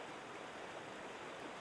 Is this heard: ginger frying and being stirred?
no